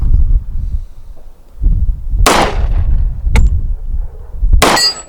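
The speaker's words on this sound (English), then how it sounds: "It's because I'm shooting downhill." A .45 ACP 1911 pistol is fired outdoors at a shooting range. Three loud, sharp reports are spaced a second or two apart, each followed by a metallic ring from a steel target, over low wind rumble.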